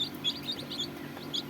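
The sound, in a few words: tiger chicken chicks chirping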